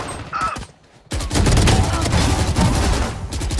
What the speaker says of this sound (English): and then he pulled the trigger